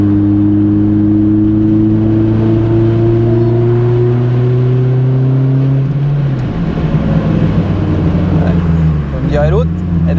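A Renault 5 Turbo 2 engine drones steadily at a low pitch, then the tone drops and shifts as it pulls harder, loud and close throughout.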